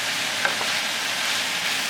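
Sliced sausage and onions fry in a pan for spaghetti sauce, giving a steady, even sizzle close by with no talking.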